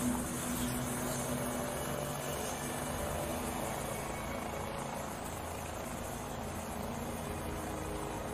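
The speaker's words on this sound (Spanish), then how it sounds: "Estamos llevando a Bergland al helicóptero." A helicopter runs at a rescue scene in a Spanish-language film, its steady rotor and engine drone continuous and fairly faint throughout, with no other sound standing out.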